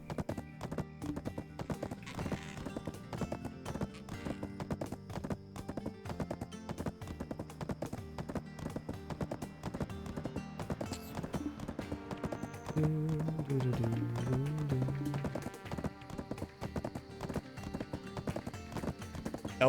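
Horse hooves clip-clop at a steady galloping rhythm in the video game Black Desert, continuous and fairly close, with an occasional whinny and game music or ambience underneath.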